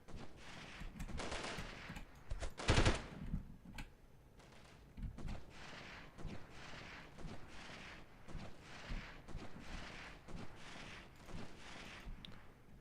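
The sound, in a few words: sniper gunfire in the video game Delta Force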